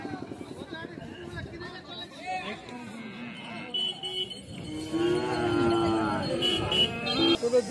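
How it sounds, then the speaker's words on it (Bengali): Bull cattle at a livestock market moo amid a busy crowd, with a sustained call rising near the end over steady babble and nearby talk. "তো এগুলো ষাঁড় গরু।"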